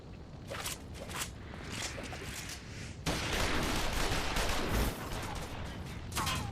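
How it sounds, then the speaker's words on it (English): Soldiers open fire in a Final Fantasy XIV cutscene, a dense roar of overlapping gunshots that grows louder partway through and carries on steadily with scattered sharp cracks. "Shoot the bastard! Shoot him!"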